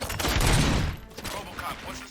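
In the RoboCop: Rogue City video game, a dense, loud volley of gunfire rattles at close range and then drops to scattered, quieter bursts.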